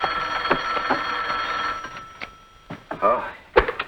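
An old-fashioned telephone bell rings in repeated bursts at a hotel, loud and close, with voices speaking between and over the rings.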